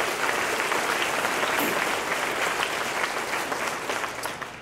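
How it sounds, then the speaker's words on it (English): A large banquet crowd at a college baseball banquet applauds, dense continuous clapping from many people filling the room, sustained throughout and easing slightly at the close. "So let's give everybody in here a great round of applause."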